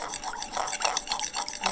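A spoon stirs food coloring into milk, scraping and clinking lightly against the container in a steady rhythm with no voices.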